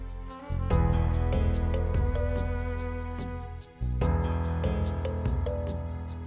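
A violin line enters a full, loud music arrangement for a song, built in Reason with strings, chime and cymbal, playing continuously with a short drop in energy before resuming.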